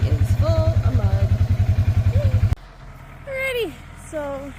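Side-by-side utility vehicle engine running steadily while riding on a country property, a loud pulsing rumble with rapid even firing beats under a voice, then cutting off abruptly to quieter talk.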